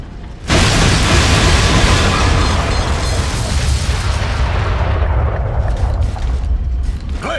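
A grenade explodes in the video game Metal Arms: Glitch in the System. The blast hits suddenly and loud, then a long roaring rumble with scattered debris crackle fades slowly over several seconds. No voices.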